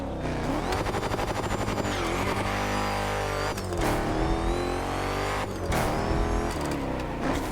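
A car engine in the racing video game The Crew Motorfest roars and revs hard, with loud climbing pitch sweeps, abrupt cuts between gear changes and fresh bursts of acceleration over a dense, constant mechanical rumble.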